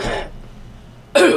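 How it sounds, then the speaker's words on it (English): A woman clears her throat in one short, loud burst at the end, preceded by a quieter rasp at the start, with low room hush between; no words are spoken. "Just clearing my throat."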